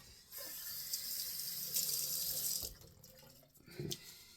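Water runs from a tap into a sink as a razor is rinsed after shaving, a steady hiss for about two seconds before it cuts off, then a brief splash near the end.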